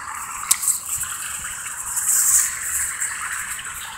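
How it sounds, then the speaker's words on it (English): Water flows over a limestone creek bed with a steady, hissing rush that rises slightly midway, close and continuous with no voices. "See that water flow?"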